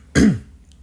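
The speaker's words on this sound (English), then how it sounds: "I had to clear my throat." A single close, loud throat clearing, one short gruff rasp lasting under half a second, followed by near silence.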